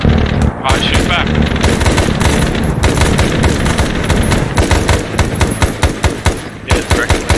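Enemy gunfire in ARMA 3 military simulation: dense bursts of machine-gun and rifle fire crackling loudly and continuously, with sharp cracks near the end and voices talking under the shooting.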